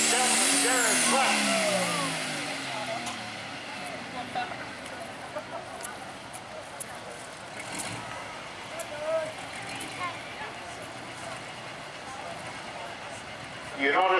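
A loud pulling tractor engine roars up close at the start of a tractor pull run, then settles into a steady, rumbling drone down the track with broad noise behind it.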